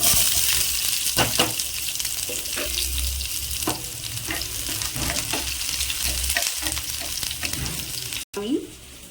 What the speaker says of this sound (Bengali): তেলটা গরম হয়ে গেছে আগে দিয়ে দেবো পেঁয়াজ কুচি